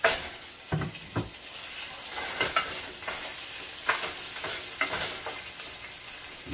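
Onion frying in oil in a pot on a low flame, a continuous quiet sizzle broken by repeated sharp scraping and stirring clatters, close and with no voices.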